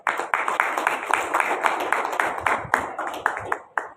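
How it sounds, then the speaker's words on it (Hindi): An audience at a session on bonded and child labour claps, steady rapid clapping filling the room for about four seconds with a few louder individual claps standing out, speech faintly mixed in. "तालियां बजती जानी चाहिए।"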